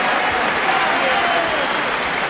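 A boxing arena crowd applauds between rounds at a bout between Carl Thompson and Chris Eubank, a dense, steady clapping wash filling the space. Faint voices sit underneath.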